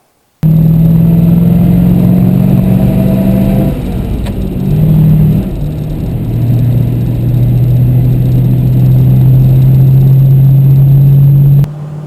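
A 1935 Ford Deluxe Sedan drives on the road, its engine a loud, close, continuous drone that dips and shifts pitch midway as if changing gear, then holds steady until a sudden cut near the end.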